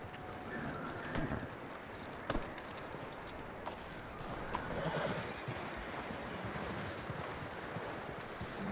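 A horse whinnies loudly in the video game Red Dead Redemption 2, with hooves clopping and shuffling nearby over a rustling outdoor background.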